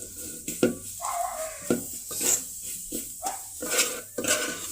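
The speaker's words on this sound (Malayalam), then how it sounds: "വെളുത്തുള്ളി എന്നിട്ട് ഇത് നമുക്ക് നന്നായിട്ട് അരപ്പ് മൂപ്പിക്കാം." Masala paste with garlic frying for a chicken curry, a steady close sizzle under repeated scraping stirs and clinks of a spoon against the pan.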